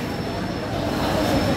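A Rajdhani express train stands at platform 5 of Asansol Junction, its steady low rumble and mechanical hum filling the air, with a thin high whine running throughout and faint station noise.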